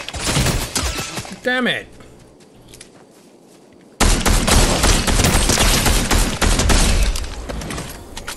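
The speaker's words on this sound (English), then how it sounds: "Don't be shooting at me." Gunfire erupts in Fortnite: loud, heavy volleys of shots, then a brief man's exclamation and a quieter lull before a sustained, dense barrage of shooting resumes and carries to the end.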